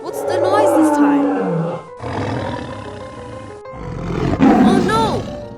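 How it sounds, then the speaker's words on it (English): A tiger roars several times, loud and close, the deep growling bursts rising and falling over about five seconds with a short break in the middle. "It's a tiger!"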